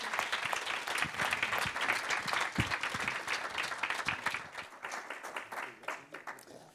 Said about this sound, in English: So a big applause for all of them